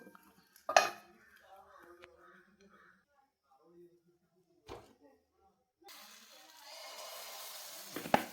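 Metallic clanks of a vessel set over a pan to cover rava appam, a sharp knock followed by softer clatter, then a rising sizzle of frying.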